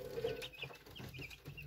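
Nine-day-old chicks cluck and cheep close by, a steady run of short high peeps and soft calls overlapping through the whole moment with no talking.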